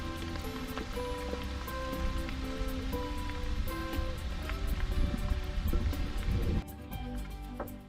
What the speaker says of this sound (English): we waited about an hour for the rain to slow down